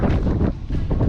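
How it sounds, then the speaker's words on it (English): Strong blizzard wind buffets the microphone outdoors beside a camping truck in snow, a loud continuous roaring rush with gusty surges and no pause. "It is windy."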